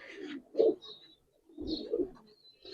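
Old-breed Giribaz pigeons coo softly in a loft, two or three low throaty bursts separated by short pauses, close and quiet with faint chirpy overtones.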